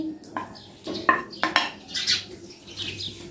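About half a kilo of beef liver tipped into a metal wok for masala kaleji, giving a few distinct clinks and clatters of pieces and utensil against the pan, close and moderately loud, with no talking.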